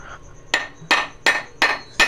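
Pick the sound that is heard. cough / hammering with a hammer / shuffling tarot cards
hammering with a hammer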